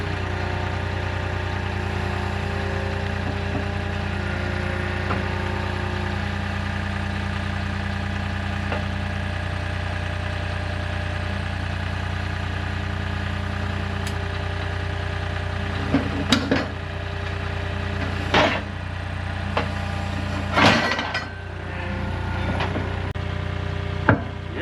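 Skid steer engine idling steadily nearby with a low, even drone throughout, joined near the end by a few sharp knocks and clanks.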